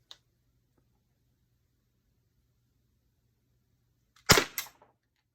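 An Umarex T4E Glock 17 CO2 pistol firing nylon balls: one sharp, loud crack at close range followed quickly by a second, fainter pop, with near silence before.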